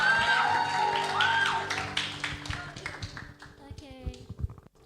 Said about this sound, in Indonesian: Boleh dong tepuk tangannya buat Kak Ellen.